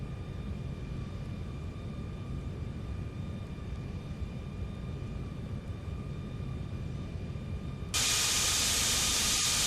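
Lockheed L-1011-500 jet engines taxiing in Flight Simulator X give a steady broadband roaring hiss with faint tonal whines, growing abruptly louder and brighter near the end as thrust increases.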